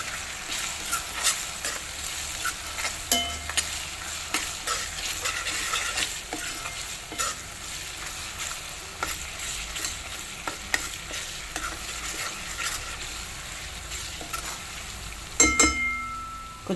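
Ginger garlic paste frying with onions in a pan for mutton curry, a continuous crackling sizzle broken by frequent scraping and clattering strokes of a stirring spoon, close up, with a louder burst of clatter near the end.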